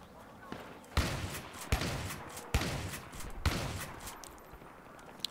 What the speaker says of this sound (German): Boah, ich habe nur 4 Schüsse gebraucht.